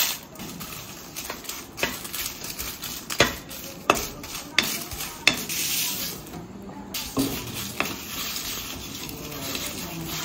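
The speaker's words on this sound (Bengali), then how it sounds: "শুকনো খোলায় আমাকে একটু ভেজে নিতে হবে" Dried red chillies, ajwain, radhuni, coriander, fennel and mustard seeds dry-roast in an oil-free pan. A spatula scrapes and taps close by in an irregular rhythm over a faint, continuous rustle, and no one speaks.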